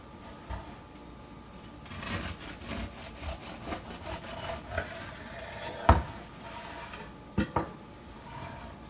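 A knife saws through a loaf of homemade bread, giving repeated rough rasping strokes close up, with a few sharper knocks near the end.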